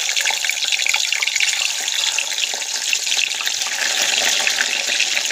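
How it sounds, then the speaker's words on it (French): French fries dropped into hot oil in a home kitchen give a steady, loud, dense bubbling hiss that runs unbroken throughout, with no talking. "Et là on plonge les frites."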